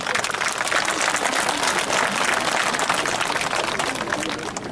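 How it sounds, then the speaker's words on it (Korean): A crowd at an outdoor tree-planting ceremony in a large parking lot gives sustained applause, a steady, fairly loud wash of many hands clapping that eases off slightly near the end. "박수 한번 보내주십시오"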